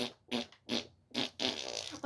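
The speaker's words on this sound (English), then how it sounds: "Why do you sound like you're farting? Literally, I am." Repeated fart-like noises come in four rough, buzzy bursts, close and fairly loud, during a Minecraft manhunt game session.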